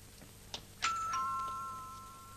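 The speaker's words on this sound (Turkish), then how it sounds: "Kapı zili." A doorbell rings with a clear two-tone ding-dong, the chime ringing out and fading in a quiet room, with a soft click before it.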